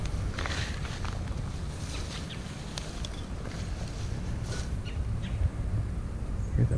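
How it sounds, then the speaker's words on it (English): A bird calls outdoors at a Civil War-era site in quiet countryside, short faint cries over a low steady wind and ambient rumble, with no talking. "Hear that bird?"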